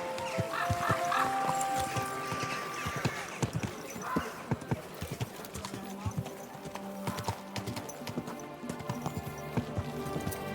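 Horse hooves clip-clopping in the medieval video game Kingdom Come Deliverance 2, a steady, close walking beat running through the whole stretch, with talk and background ambience over it.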